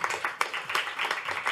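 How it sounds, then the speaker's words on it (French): Brief applause from a conference audience for a speaker at an innovation forum, a short burst of moderately loud clapping with a few sharper individual claps standing out. "Vous pouvez encore applaudir Laurent Renouf."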